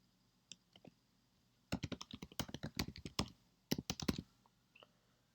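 An email address is typed on a computer keyboard: a few isolated taps, then two quick bursts of close keystrokes, soft and clicky with no voice.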